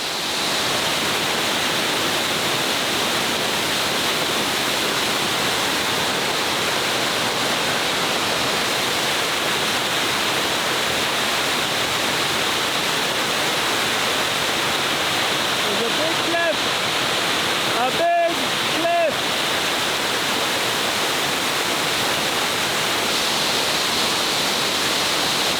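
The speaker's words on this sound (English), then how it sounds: "We're now at the top of the waterfall." A jungle waterfall in Bali roars as a steady, dense rush of falling water, loud and unbroken throughout, with a few brief faint tones near the end.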